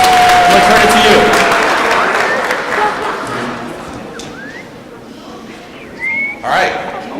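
A crowd at the 2017 Tri-Cities Youth and Justice Forum applauds as police detectives are welcomed. Clapping is loudest at the start and thins out, with a whistle, scattered voices and a few late bursts.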